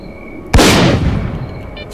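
A single loud gunshot in STALKER Clear Sky cracks sharply against a quiet background, followed by a long, fading rumble of echo.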